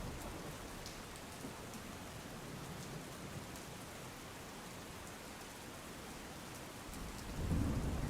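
Heavy rain pours steadily in a dense hiss, with a low rumble of thunder swelling near the end.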